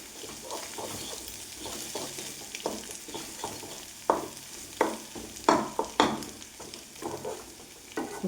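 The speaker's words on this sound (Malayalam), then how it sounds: "ഞാൻ ഈ വാട്ടി വെച്ചേക്കണ വെണ്ടക്കായ ഈ മിക്സിയിലേക്ക് ഇട്ട് കൊടുക്കണം" Okra and beaten egg stir-fry in a pan with a steady sizzle, broken by several sharper scraping stirs toward the end, close and unaccompanied by talk.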